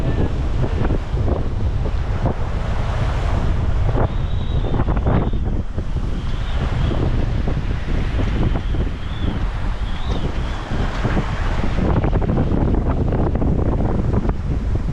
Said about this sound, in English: Windier than heck. Downwind, rounding the cape, constantly surfing waves.